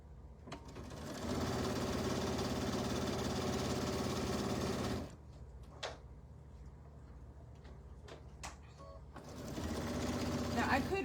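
A sewing machine sews a tote bag in a steady close whirring run, then stops while people talk, and starts again near the end.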